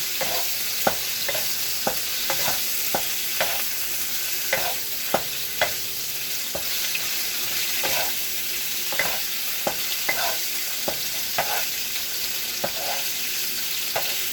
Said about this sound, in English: So fry till they are pink in color.